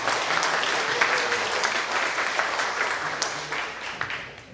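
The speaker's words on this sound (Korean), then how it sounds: "여러분들 박수 부탁드립니다" An audience at a housing association project briefing applauds an introduced committee chairman, steady moderate clapping from a seated crowd with a few sharper individual claps.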